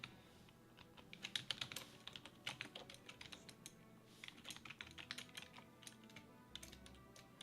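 Fast, uneven clatter of keys on a computer keyboard, bursts of sharp clicks with short pauses, close and fairly quiet with no voices.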